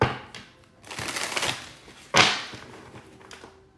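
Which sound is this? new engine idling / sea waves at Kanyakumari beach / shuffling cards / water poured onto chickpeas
shuffling cards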